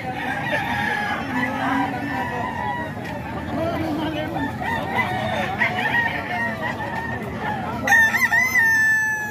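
A rooster for sale in Tondo crows loudly and close, a long drawn-out call standing out near the end, amid a busy backdrop of other birds clucking and people chattering.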